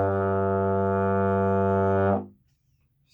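Euphonium holding a single low brassy note from a tune, steady and close for about two seconds, then cutting off into silence.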